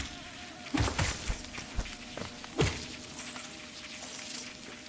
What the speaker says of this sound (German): Ja, Bienen.